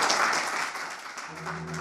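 Applause from a lecture audience thanking the speaker after a talk on nanomedicines, a soft diffuse patter of many hands that thins toward the end as a low voice begins over it.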